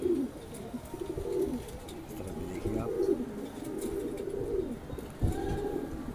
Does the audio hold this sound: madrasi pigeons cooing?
yes